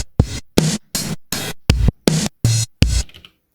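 An Elektron Digitakt pattern with step length set to 1 plays back: eight punchy, gated hits of a resampled sound with abrupt cut-offs and brief silences between, loud and close, ending in a faint tail.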